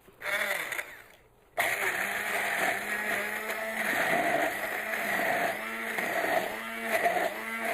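A hand mixer whirs steadily as it blends gazpacho, its motor droning loud and close with a brief pause near the start before running on continuously.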